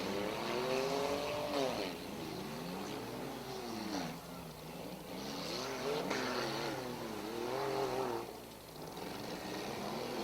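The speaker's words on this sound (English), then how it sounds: "The 66 of Van Wart pushing the 19 around." Demolition derby cars grinding and pushing each other around a dirt racetrack, with engines revving in rising and falling surges, fairly faint and continuous across the clip.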